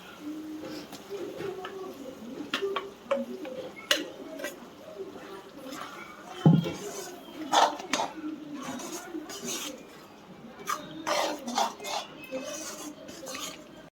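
Metal utensil scraping and clinking against a pan while stirring vegetable gravy with onion and cashews, with intermittent knocks and a soft bubbling background, occasional speech in between.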